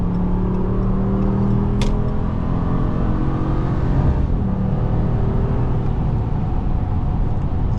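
A 2023 Ram 1500 Classic pickup truck engine revs up loudly and holds a steady roar, then settles, with a faint brief squeak near the start.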